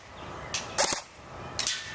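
A Makr-9 airsoft gun cycles on full auto with no BBs loaded, giving a few short, sharp, snappy bursts close by, separated by quiet gaps.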